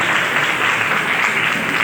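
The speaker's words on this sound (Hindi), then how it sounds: "ये सीट्स आप लोगों के लिए जोरदार तालियां होनी चाहिए" An audience at a team program session breaks into dense, loud applause, a continuous roar of clapping with no voices over it.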